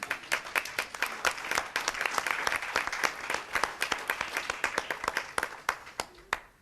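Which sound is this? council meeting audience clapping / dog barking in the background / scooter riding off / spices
council meeting audience clapping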